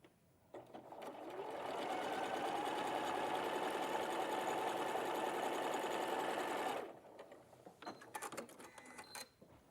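Close and loud, a sewing machine stitches a strip onto a log cabin quilt block in one long continuous run of about five seconds, then stops, leaving light handling clatter and faint voices.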